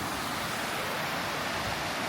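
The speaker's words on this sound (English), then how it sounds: "Hear the sounds of water." A mountain river in the Czech Republic rushes with a dense, steady roar of water, close and loud, broadband and unbroken, with no talking.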